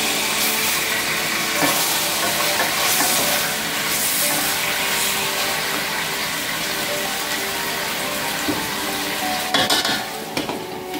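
Chicken pieces sizzle and fry in a pot while being browned for a Jamaican-style curry chicken stew, a steady loud crackling hiss with occasional stirring scrapes throughout.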